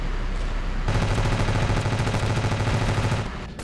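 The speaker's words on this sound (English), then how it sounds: "now we're gonna strafe the enemy compound" A plane strafes an enemy compound with its guns in Ravenfield, a loud sustained roar of rapid fire that starts abruptly and runs continuously for a few seconds.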